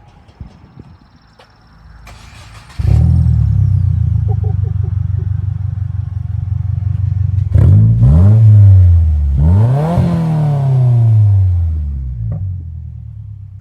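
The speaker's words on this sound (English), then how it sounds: "we're going to start it up with no exhaust because we've got to know what it sounds like." A Subaru WRX with a 2.4 engine and no exhaust fitted starts up with a loud rumbling catch, idles steadily, then revs hard twice, each rise and fall of the engine close and dominant.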